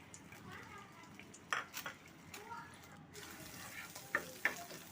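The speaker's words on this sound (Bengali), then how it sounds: "এখন এই কড়াইতেই আমি ভেজে নেব ডিমটা।" Beaten egg frying in oil in a wok, a soft continuous sizzle broken by a few sharp clinks and scrapes of a spatula against the metal pan, close and fairly quiet with no talking.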